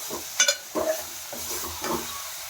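Spicy village-style mutton curry cooking slowly in a pot over low gas, with several distinct spoon scrapes and stirring clatters against a quiet simmering background, close and fairly soft, no talk.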